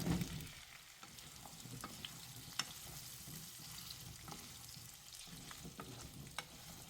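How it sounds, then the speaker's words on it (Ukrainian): Chopped onion sizzles gently in a pan used for chicken, a soft steady crackle with occasional sharper pops and stirring scrapes, quiet and close with no talk. "У пательню, на якій готувалася курка, додаємо нарізану цибулю. Розсмажуємо її декілька хвилин"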